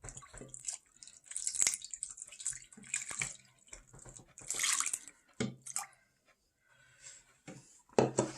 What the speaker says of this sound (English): you're going to take some water and you're going to wash it